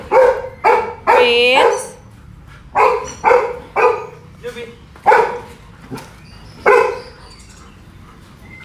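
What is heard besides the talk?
dog barking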